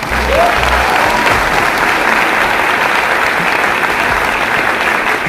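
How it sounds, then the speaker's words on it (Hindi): Loud, sustained clapping from a seminar audience at a motivational business talk, dense and unbroken throughout with a few low thumps early on. "ताली बजा दो"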